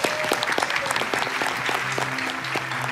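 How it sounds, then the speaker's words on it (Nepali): Enthusiastic audience applause greets a flute player at a televised poetry and music talent show, a dense continuous wash of clapping with faint musical tones and light voices underneath. "रुपेशजीको लागि जोरदार ताली जाओस् प्लिज।"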